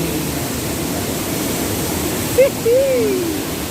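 A waterfall roars as a loud, continuous broadband rush of water, steady throughout, with a brief faint whistle-like sound near the end.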